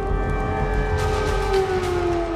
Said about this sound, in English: Air raid sirens blare throughout the day.